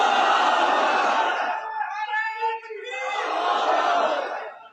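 A large crowd at a religious gathering in Khushab shouts the takbir slogan in unison, with a loud sustained roar that dips briefly midway before a second full-throated surge.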